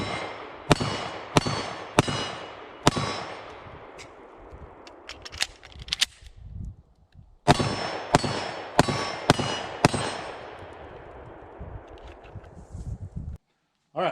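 A Smith & Wesson M&P 10mm pistol fires at steel targets outdoors at 15 to 18 yards: two strings of sharp shots, each ringing with a metallic clang and trailing echo, spaced about a second apart with a quiet pause between strings.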